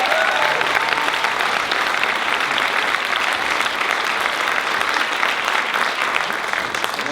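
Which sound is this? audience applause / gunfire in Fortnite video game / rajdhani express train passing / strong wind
audience applause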